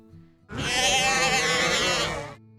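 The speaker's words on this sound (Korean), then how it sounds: "미국 아이다호 55번 고속도로가 양 울음소리와 양을 이끄는 종소리로 가득 찼습니다" A sheep in a flock of around 2,500 driven along Idaho's Highway 55 lets out one loud, close, wavering bleat lasting about two seconds, with a low steady hum before and after.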